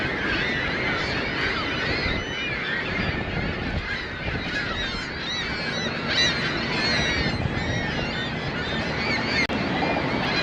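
Many geese honk continuously around Hamilton harbour, a dense overlapping chorus of calls at close to moderate distance, with a steady background hum beneath.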